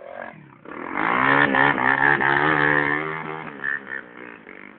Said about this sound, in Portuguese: Pincha a moto pra cima, o Zé falou.